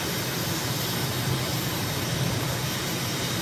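Airplane taking off in Microsoft Flight Simulator, a loud, steady jet engine roar filling the space with broadband rush and low rumble, unbroken and close.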